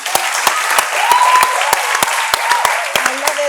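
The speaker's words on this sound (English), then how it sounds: "I needed to clap for that." A single person claps in a slow, even rhythm, about a dozen sharp claps over a soft background murmur, during a panel discussion on religion, women and governance.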